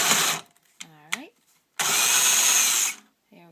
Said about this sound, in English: And you're just going to drill down.